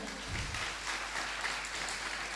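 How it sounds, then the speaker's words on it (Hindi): An audience at a Jain devotional gathering with nuns claps together, a dense, steady wash of applause filling the hall without pause. "ताली बजाओ"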